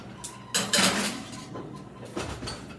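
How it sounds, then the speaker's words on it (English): A baking tray of cauliflower slides back into a home oven with a couple of metallic clanks and scrapes of pan on rack, loud and close, followed by softer knocks as the oven closes. "I'm going to put it right back in the oven."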